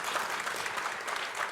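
Brief, faint burst of audience clapping at a French cement industry conference, soft and distant with no voices over it.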